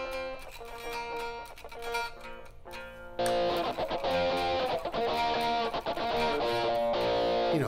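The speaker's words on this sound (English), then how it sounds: "And I still got the Boston guitar sound hooked up from" An electric guitar with a Boston-style tone at a band soundcheck: sustained chords ring alone at first, then the sound grows fuller and louder from about three seconds and stays dense and continuous, with no talk.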